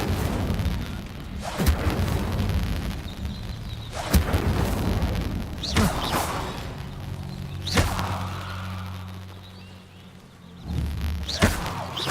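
Incendio fire spell cast in Hogwarts Legacy, heard as several heavy booming thumps and fiery bursts spaced a second or two apart, loud and close over a rumbling game background.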